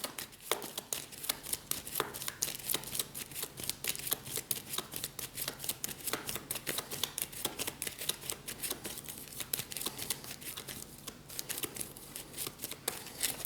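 Shadowrun Crossfire playing cards are drawn and slid off a deck in a continuous run of quick, crisp snapping and flicking strokes, close up and with no talk.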